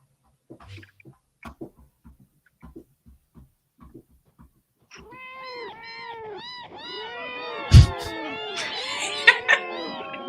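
Randomized cat meows from a video game: a dense, overlapping chorus of synthetic meows that starts abruptly after a few soft clicks and keeps going loud and steady, with one sharp thump near the end and no speech.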